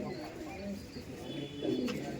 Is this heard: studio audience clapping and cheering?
no